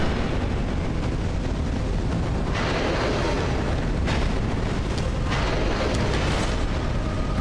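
A loud, sustained rumbling blast follows a boss's leap in the Dark Souls 2 video game, a dense roar with a few sharper surges that fills the whole clip without any talk.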